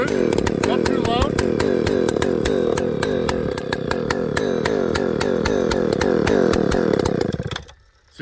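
A Husqvarna 298XP chainsaw fitted with a modified exhaust pipe runs steadily at high speed, loud and close with a rich, slightly uneven rasp, then cuts off abruptly near the end; a voice briefly speaks over it.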